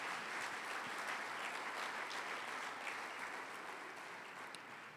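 A church congregation applauds steadily and loudly throughout, a dense, continuous wash of clapping that tapers slightly toward the end, with no speech over it.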